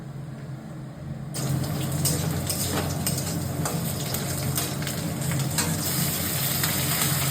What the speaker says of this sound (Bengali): রান্না বান্না হচ্ছে এখন